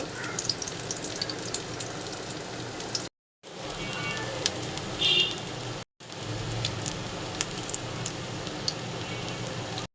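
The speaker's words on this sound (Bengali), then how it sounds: "এক এক করে ডিমের ব্যাটারে ডুবিয়ে ডুবো তেলে ভেজে নেব।" Egg-battered potato chops deep frying in hot oil, a steady loud crackling sizzle broken by two brief silent cuts, with faint clinks of handling.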